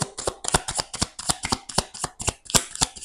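A deck of tarot cards being handled and cut, giving a rapid run of crisp riffling, slapping card clicks in steady bursts, close and fairly loud with no talk.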